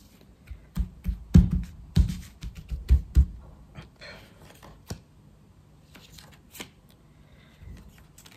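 Tarot cards are shuffled and drawn by hand close by, a set of soft riffling and slapping bursts followed by quieter card handling and faint shuffling.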